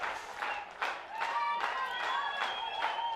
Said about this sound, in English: Tiger players clapping